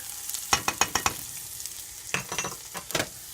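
Ginger, curry leaves and turmeric are stirred in a hot pan for lemon rice, a soft background sizzle punctuated by bursts of sharp spoon-on-pan scrapes and clacks in two clusters.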